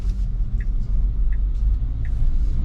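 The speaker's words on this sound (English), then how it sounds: "I'm going to hit the accelerator a little bit" A Tesla running FSD v10.2 accelerates on a road in Cashiers, North Carolina, giving a steady low rumble of tyres and motion with a few faint, brief high ticks over the top.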